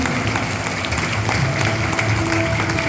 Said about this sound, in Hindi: जोरदार तालियां सिद्धार्थ के लिए।